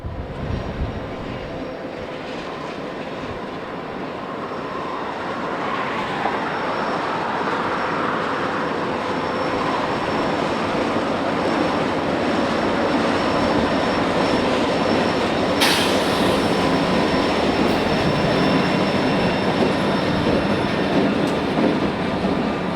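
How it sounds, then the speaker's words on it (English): A freight train rolling along the CN Matson subdivision at Airport Road, a loud continuous rumble of railcars with wheel squeal and rhythmic clatter building over the first seconds and then holding steady close by. "At Airport Road, the train is now on their extremely short run on the CN's Matson subdivision"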